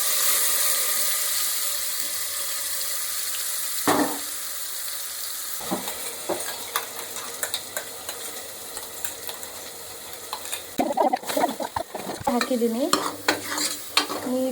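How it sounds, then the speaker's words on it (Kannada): Ground spice paste fries and is scraped around a pan over reddened onions, with a steady sizzle and repeated clattering stirs that turn louder and busier toward the end; a single brief spoken word. "ಇದು ಸ್ವಲ್ಪ ಫ್ರೈ ಆಗಬೇಕು."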